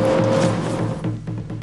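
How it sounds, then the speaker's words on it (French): Peugeot 306 road car pulling away from a standing start, its engine note steady and loud with a low drone, fading slightly as it moves off. "Nous activons le chrono tandis que la 306 démarre et atteint le 0 à 100 km/h en 8 secondes 4"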